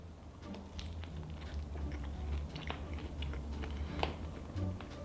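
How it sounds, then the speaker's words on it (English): Close, crunchy bites and chewing on a Cinnabon pastry topped with sprinkled nuts, with a few sharp cracks of the nuts over soft mouth sounds. "Let's give it a good bite."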